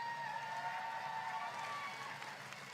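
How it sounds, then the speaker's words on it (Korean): Audience applause and cheering at a political rally speech in Seongnam, a steady crowd roar of clapping mixed with faint voices that stays even across the whole stretch. "박수 한번 주세요."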